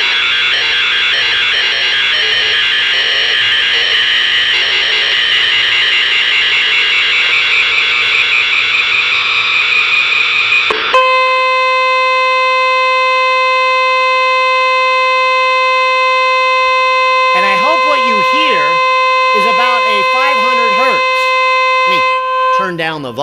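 A steady, pure 500 hertz electronic tone plays continuously from a radio speaker, loud and unwavering, with a voice briefly talking over it near the end.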